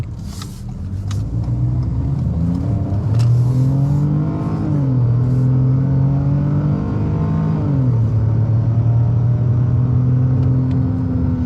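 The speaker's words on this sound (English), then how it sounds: "Good pep, pretty good acceleration, but it makes some really unique 3-cylinder sounds." Ford Escape with a 3-cylinder engine accelerating in sport mode, a loud close engine drone rising in pitch through gear changes, heard from inside the cabin without talk.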